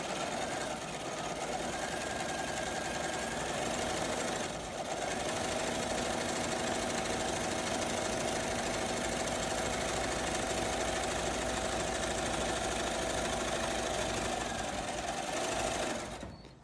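A sewing machine stitches fabric seams, a steady rapid mechanical chatter held close and even, with one brief pause near the middle.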